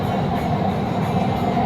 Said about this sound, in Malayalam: ഈ മെട്രോയുടെ ഒരു വലിയ പ്രത്യേകത എന്ന് പറഞ്ഞത് ഡ്രൈവറില്ല കണ്ടോ